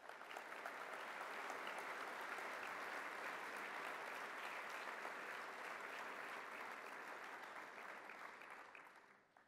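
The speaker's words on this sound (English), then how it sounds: "Please give him a round of applause." A large audience at a state senator's welcome event bursts into steady, sustained applause, loud and dense throughout before tapering off at the very end.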